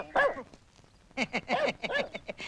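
A dog gives one short bark, pauses, then lets out a quick run of sharp, close barks and yips.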